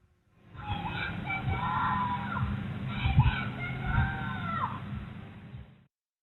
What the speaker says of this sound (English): A neighbour recorded his desperate screams to be let in.